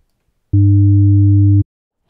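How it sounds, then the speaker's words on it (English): A steady synthetic tone holds for about a second, starting and stopping abruptly: a strong low fundamental hum with a faint 300 Hz third harmonic above it, silence around it. "Here's my one third for the energy and the frequency 300 hertz or three times the fundamental."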